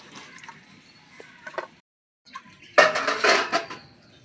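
A metal wok clanks down onto a stove, a short clattering burst after a brief pause of quiet.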